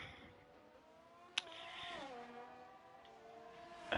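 Formula-style race cars, including a McLaren and a Ferrari, pull out of the pits in a racing video game on a Miami circuit: a whining engine tone that climbs and sweeps in pitch, with a sharp click partway through.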